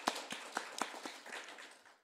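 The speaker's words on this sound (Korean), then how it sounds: "박수." A church congregation claps during a Wednesday worship service, a short run of sharp, separate hand claps and taps spread over about two seconds, moderately close and fading toward the end, with no talking.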